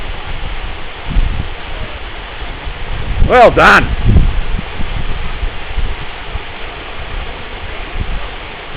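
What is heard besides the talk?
waterfall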